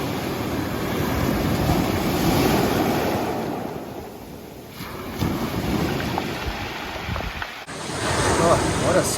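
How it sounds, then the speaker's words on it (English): Huge ocean waves pound the Cape Breton shoreline in Nova Scotia, surging and receding in a loud, continuous wash of surf, with wind buffeting the microphone. "These waves here are freaking"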